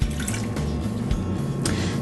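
Water poured into a cup for a single serving of steel-cut apple cinnamon oatmeal, a steady close splashing fill running throughout with small bursts, no talking.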